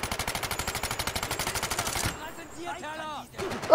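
Gunfire in the virtual-reality shooter Medal of Honor VR: a rapid, steady burst of automatic fire pounds for about two seconds, then breaks off into quieter game noises and a short, chirpy sound before another loud hit at the end.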